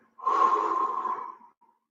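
A single deep, audible breath, close and alone, taken while rocking back and forth during a functional exercise session for climbers, lasting just over a second before fading out.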